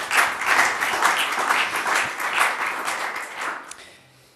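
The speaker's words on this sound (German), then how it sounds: "Jetzt kann man zum ersten Mal auch einen Applaus loswerden." An audience applauds steadily at a German community radio anniversary event, a dense wash of hand clapping that fades out toward the end.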